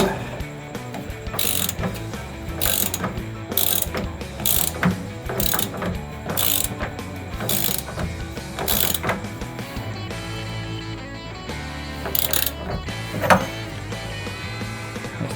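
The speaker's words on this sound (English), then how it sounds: "Giving this a little tighten." A ratchet tightens a part on a Classic Mini Cooper under restoration, its clicking coming in repeated close bursts over a steady background hum, with no one talking.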